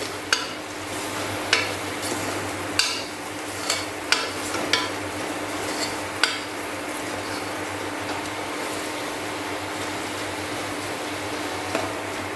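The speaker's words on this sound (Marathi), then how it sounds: "हे सुद्धा एक ते दोन मिनटं आपण असंच परतून घेणार आहोत" Masala paste for mutton curry being sautéed and stirred in a pan, a steady frying sizzle with scattered scraping clicks of the spoon against the pan over a constant low fan hum.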